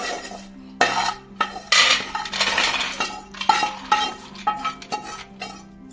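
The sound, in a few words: transferring peanut chaat mix into a bowl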